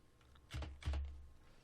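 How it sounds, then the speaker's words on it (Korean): Computer keyboard keys pressed during a game tutorial, two quick soft clicks close together, faint and alone. "키보드를 왼쪽을 누르고 있죠"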